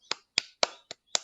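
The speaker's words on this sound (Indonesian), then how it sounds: "Tepuk tangan buat Mas Marvel." Children in a primary school classroom give a short cheer clap for a classmate, five sharp, evenly spaced claps ringing out crisply and fairly quietly with no talk between them.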